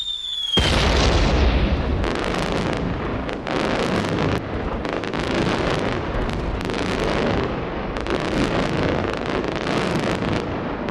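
A firework rocket bursts high in the sky with a loud boom, followed by a long crackling, rumbling wash of noise buffeted by wind against the microphone.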